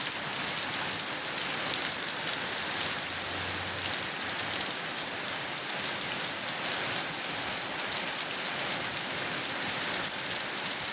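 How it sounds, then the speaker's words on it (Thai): Steady rain falls on leaves and other surfaces, a dense, even patter that holds at the same moderate loudness throughout with no voices. "บรรยากาศฝนตกแล้ว เบื้องใบไม้ตกอ่"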